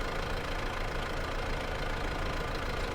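A tractor engine idles in a farming video game with a steady, dense rumbling drone that holds constant and close for the whole stretch.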